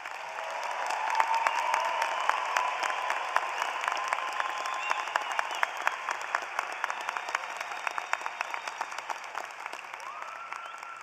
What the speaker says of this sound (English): Please join me in giving everyone, all these graduates, a round of applause.